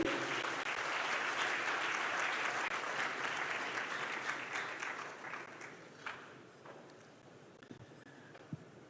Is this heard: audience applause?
yes